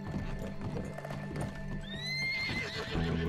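A horse in Red Dead Redemption 2 clops its hooves nearby and lets out a rising, drawn-out whinny midway, with steady hoofbeats and game ambience underneath.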